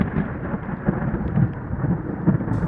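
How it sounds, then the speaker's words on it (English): Low thunder rumbles on steadily with a rain-like hiss over it, a dense, continuous roll with no clear crack. "there was thunder and lightning"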